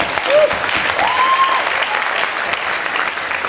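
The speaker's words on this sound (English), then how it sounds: "Please clap for yourself." Graduates and guests at a convocation ceremony clap together, a sustained, even roar of many hands filling the space, with a brief whistle-like tone rising above it early on.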